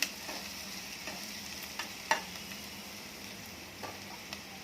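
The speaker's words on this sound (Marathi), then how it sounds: "आपला कांदा परतून होत आलेला आहे सोनेरी कलर झाला त्याचा" Chopped onion sautéing to golden brown in a pan for a dry cauliflower-potato curry gives a steady, soft sizzle with scattered sharp clicks and scrapes of stirring, close and moderately quiet, with no talking.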